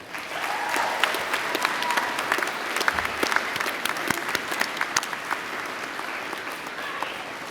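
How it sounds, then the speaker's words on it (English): Audience at a university graduation ceremony applauding in a sustained, dense burst of clapping that holds steady throughout, filling the hall without a break. "give them a big round of applause"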